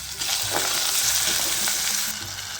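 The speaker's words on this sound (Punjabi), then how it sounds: "ਮਸਾਲਾ ਆਪਣਾ ਭੁੰਨ ਚੁੱਕਿਆ ਦੇਖੋ" Tomato masala fries loudly in a pan, with a dense, steady close sizzle and intermittent stirring scrapes for a tinda curry, continuous until it eases slightly at the end.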